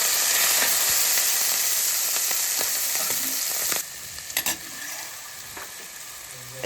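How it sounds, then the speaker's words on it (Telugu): Raw prawns frying in a pan for a Telugu beerakaya (ridge gourd) egg and prawn curry, giving a loud, steady sizzle with a few stirring scrapes; the sizzle drops sharply partway through and continues more quietly. "అందులో పచ్చిరొయ్యలు వేసి వేగనివ్వాలి"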